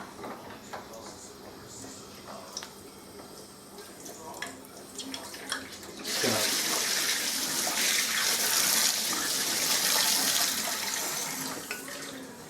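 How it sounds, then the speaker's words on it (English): Hands washed under a running kitchen tap while cooking squid tempura: small clatters and drips first, then a steady loud rush of water starting midway and continuing to the end. "Wash my hands a bit"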